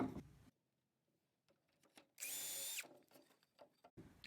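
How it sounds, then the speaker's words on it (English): A power drill whines loudly through wood for under a second while making a potholder rug loom, following quiet handling noises and scattered knocks. "line up the wood with the next mark and drill one hole at a time"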